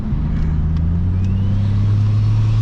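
Turbocharged Ford Fairlane engine driving after a turbo swap, a steady low drone at cruise with a faint whine rising slowly, loud and close throughout with no talking.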